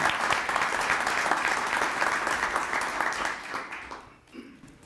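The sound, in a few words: audience applause at a swearing-in ceremony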